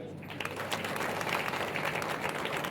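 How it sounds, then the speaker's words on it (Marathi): An audience at a lecture for students and parents claps steadily throughout, a dense, moderately loud spatter of applause without a break. "यानंतर विशेष टाळ्या वाजवा फोटोग्राफर साठी"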